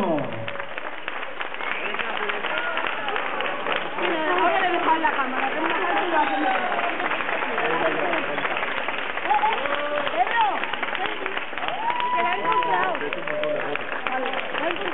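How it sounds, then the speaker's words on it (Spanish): A crowd applauds the winner of a pin-up contest at a tattoo convention in Castellón. The clapping and crowd noise run steadily throughout, partly under someone talking close by. "Fuerte aplauso, por favor."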